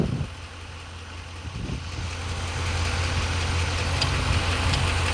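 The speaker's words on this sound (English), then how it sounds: "Guys, my compressor's on." A car's air conditioning compressor cuts in on a vehicle whose AC is not blowing cold and keeps cycling on and off; a steady low engine-and-compressor drone swells slightly and holds, close and continuous with no talk.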